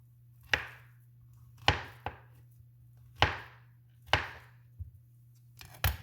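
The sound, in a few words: knife slicing plantains at an angle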